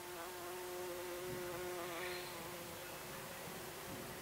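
Bees buzzing around squash plants covered by mosquito netting, a continuous even drone of insect wings heard close and alone with no voices.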